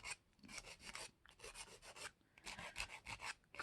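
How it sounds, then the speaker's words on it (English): A nail file rasps back and forth over the top of dip-powder nails on full cover tips, quick short strokes in uneven bursts with small pauses, close and quiet, with no talking. "I'm kind of filing the top, not so much straight across"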